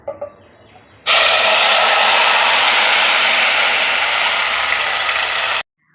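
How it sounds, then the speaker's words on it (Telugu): Marinated hariyali chicken is dropped into hot oil, setting off a sudden loud, steady sizzling hiss that holds for several seconds and then stops abruptly. "ఇప్పుడు ఈ చికెన్ మొత్తం డైరెక్ట్గా ఆయిల్ వేసేసుకోవాలి."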